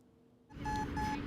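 After a quiet start, a steady electronic beeping from a beep baseball ball begins, repeating tones pulsing over outdoor background noise during a game.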